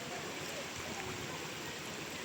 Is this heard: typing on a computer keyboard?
no